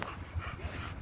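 A dog at a dog park gives short, soft whimpering and panting noises, faint and close, in a brief burst with no voices.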